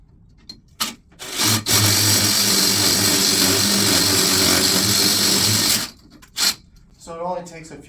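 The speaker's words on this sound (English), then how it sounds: "So it only takes a few seconds to drill through." Power drill boring through a rim board for a basement wall strap bolt, one loud steady whining burst of about four seconds at close range, with brief voices before and after.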